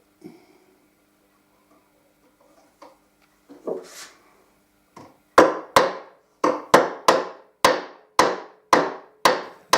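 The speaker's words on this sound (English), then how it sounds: "help eliminate any bounce when you hammer the frets in" A few soft taps, then a steady run of sharp, evenly spaced hammer strikes driving frets into an archtop mandolin fretboard, close and loud, about two per second.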